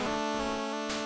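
Ending theme music from the video game Solstice plays loud and full as a sustained, layered tonal passage with a brief shift in texture near the end.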